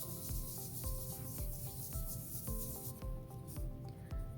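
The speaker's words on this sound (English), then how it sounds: "Knuckle rub it down." Knuckle rubbing steadily over paper laid on an inked ladybug squish print, a close, continuous scratchy rasp with a regular back-and-forth pulse of strokes and no voices.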